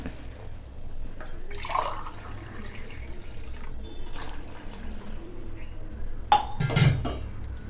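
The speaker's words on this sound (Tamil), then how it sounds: "1 கப்பு மாவுக்கு 2 கப்பு தண்ணி ஊற்றுறோம்." Water pours into 200 grams of cornflour in a bowl for Bombay halwa, two cups of water per cup of flour, giving a soft splashing and trickling with a brief louder splash near the end.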